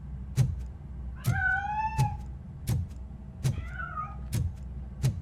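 A cat in Robocop: Rogue City meows twice, clear and close, between regular thumping footsteps over a low game ambience.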